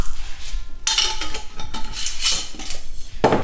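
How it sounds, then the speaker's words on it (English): Mustard seeds, a cup at a time, pour into a pot on a stovetop while making homemade Dijon mustard, giving bursts of rattling, clinking patter against metal with a few louder scattered spills. "So we're going to add 1 cup of mustard seeds."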